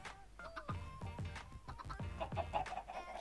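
Chickens in the video game Minecraft clucking repeatedly, a rapid series of short, close, moderately quiet clucks with a few sharper squawks, alone without talk.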